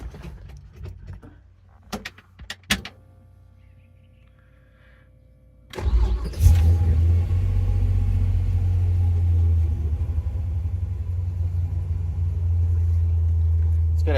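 A 1957 Chevrolet Bel Air fuel-injected V8 cranks and fires up around six seconds in, settling into a loud, deep, burbling idle through a 2.5-inch chambered exhaust with an X pipe, after some light clicks and rattles.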